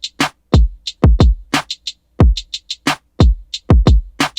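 Programmed drum pattern built in Soundtrap, with extra kicks added and snares kept in place: punchy kick and snare hits fall in a steady, busy groove alongside crisp, bright hi-hat ticks, loud and close with no voices.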